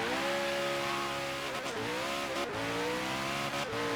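Koenigsegg One:1 in Forza Horizon 3 accelerating hard, a loud, close engine whine climbing in pitch through quick gear shifts that drop and rebuild the tone, alone with no talk.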